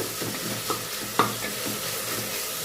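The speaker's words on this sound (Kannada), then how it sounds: "ಟೊಮೊಟೊ ಚೆನ್ನಾಗಿ ಫ್ರೈ ಆಗಿದೆ" Tomatoes fry in a pan for vegetable kurma, a close, even sizzle marked by a few distinct scraping knocks of a stirring spoon, with no one speaking.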